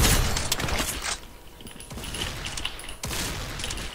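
Gunfire from a shotgun in the arena shooter Hellreaver Arena, with a few sharp, loud blasts and broadband bursts over a busy game soundscape, including a strong shot near the start and another around three seconds in.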